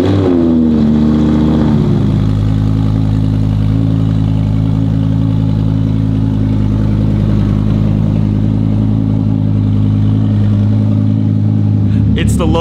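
An Audi R8 engine idles loudly and steadily after a brief rev, holding a deep, constant drone close to the microphone.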